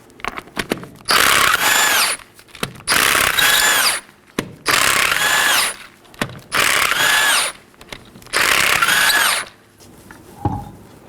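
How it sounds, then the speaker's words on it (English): Power tool spins off five 19mm lug nuts from the left front wheel of a Chevrolet Equinox, five loud whirring ratcheting bursts of about a second each, separated by short pauses and small clanks. "Let's go and remove our left front wheel. There's 5 19mm lug nuts."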